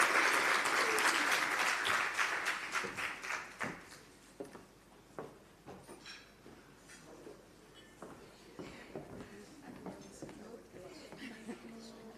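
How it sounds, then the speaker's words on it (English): Applause from an audience at a 30-year employee celebration event greeting a deputy minister of minerals and petroleum as she comes up, loud and dense at first, then thinning to scattered claps and fading out. "Let's give her a round of applause as she comes up."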